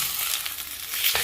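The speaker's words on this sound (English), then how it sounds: "Sear it in those oils and the fat that's coming off of this steak, and get that nice and seared." Steak fat searing in a hot pan with its own rendered oils, a loud, dense, continuous sizzle heard up close with no voices.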